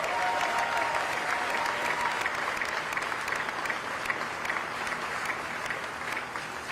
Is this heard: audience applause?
yes